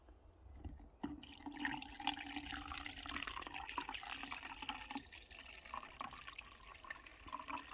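Liquid from e-waste gold recovery is poured off from a jar into a filter, a steady trickling and splashing stream lasting several seconds, close and fairly quiet.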